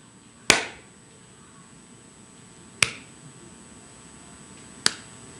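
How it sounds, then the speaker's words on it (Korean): A preacher during a Sunday church sermon claps his hands three separate times, each a single sharp, crisp clap with a brief room tail and a pause of about two seconds between them. Each clap has a slightly different character, against a quiet background. "여러분 제가 지금 박수를 쳐보겠습니다."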